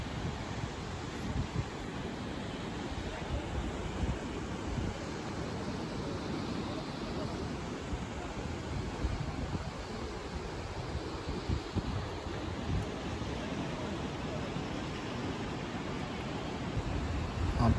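Thoseghar waterfall in Satara roars as a steady, even wash of broadband sound. It is moderately distant, blended with outdoor ambience and some wind buffeting the microphone, and continues without a break.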